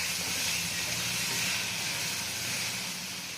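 Onions and curry leaves frying for fish pulusu, a steady, loud sizzling hiss from the pan that runs unbroken and close, with no talking.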